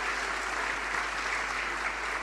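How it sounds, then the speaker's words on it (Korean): A congregation at a Korean church service in Saigon gives a short burst of encouraging applause, soft and distant, a steady patter of many hands. "우리가 격려의 박수로 한번 했으면 좋겠습니다."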